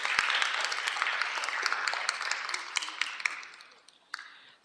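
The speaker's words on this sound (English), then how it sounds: "a round of applause for all our speakers" Applause for the speakers at a Los Angeles Board of Public Works meeting: a room of people clapping steadily for about four seconds with scattered sharper claps, fading out at the end.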